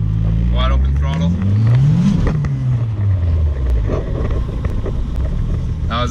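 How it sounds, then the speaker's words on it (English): Turbocharged Nissan 240SX S14 engine pulling hard at wide open throttle in first gear, revs sweeping up loudly then dropping back, close and continuous with wind buffeting over the microphone. "I'm just in first gear right now, wide open throttle"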